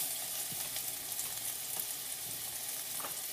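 Onion frying in smoking-hot coconut oil for an asparagus and pepper stir fry, a steady bright sizzle close by with a few soft clicks of stirring, no voices.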